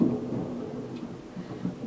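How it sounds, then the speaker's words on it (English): Low thunder rumbling steadily indoors during a storm, a continuous moderate rumble with slight swells and no speech. "Why does it always thunder when I'm making a video?"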